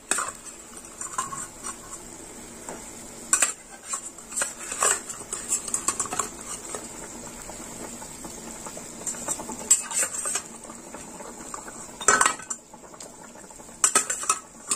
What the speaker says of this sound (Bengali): ঝোল ফুটে গেছে, এবার আমি মাছগুলো দিয়ে দেবো।